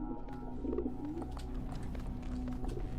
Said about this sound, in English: All I can hear are pigeons.